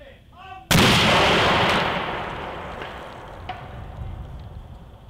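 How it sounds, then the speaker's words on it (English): A 3-inch cannon fires at a car engine block: one sudden, very loud blast that rolls on as a long, slowly fading boom, with a faint later crack or impact in the decay. "Cannon vs engine block, and I will say it's not going to go through,"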